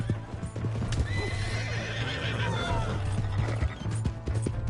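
Rapid rhythmic hoofbeats of a galloping horse in the video game Red Dead Redemption 2, with a neigh partway through, close and steady, over faint background voices.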